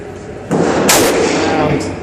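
A single loud gunshot from a Ruger GP100 revolver at an outdoor range, a sharp report followed by a brief rolling echo.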